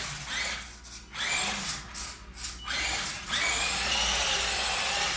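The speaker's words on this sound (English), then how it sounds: "you can see and hear the wheels slipping" Wheels of a vintage RadioShack X-Mods RC truck, not four-wheel drive, spin and slip on the ground, making a whirring, grinding motor whine that surges in short bursts before settling into a steady, loud buzz.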